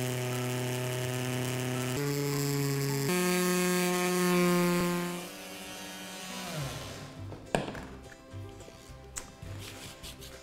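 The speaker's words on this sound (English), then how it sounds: "we're going to use this mini grinder with a flexible shaft set to a medium speed with an" A mini grinder on a flexible shaft, fitted with an engraving bit and run at medium speed, engraves parts for an LED frame: a steady, close tonal whine with strong harmonics that shifts pitch a few times, then gives way to scratchy, irregular grinding contact.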